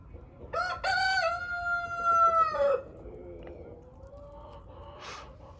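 A Brahma rooster lets out one loud, drawn-out crow nearby in a poultry coop, followed by quieter clucking and softer calls from the hens.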